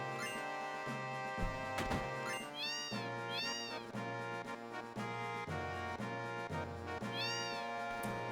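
A cat meows about three times in short rising-and-falling calls over steady background music.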